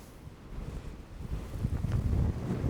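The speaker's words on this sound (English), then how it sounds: "it's very windy up here" Strong wind on open Dartmoor moorland buffeting the microphone, a low rumbling roar that grows louder and gustier toward the end.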